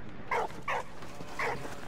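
A dog in Valiant Hearts: The Great War gives three short yapping barks, the first two close together and the third after a brief pause, over low background ambience.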